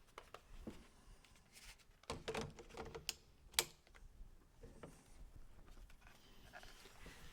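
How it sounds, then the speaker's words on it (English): An NPF battery is clicked onto a cage for a Tascam FR-AV2 recorder, giving a few faint plastic clicks and taps. A couple of sharper snaps stand out midway, with no talking. "And now I'll add an NPF battery."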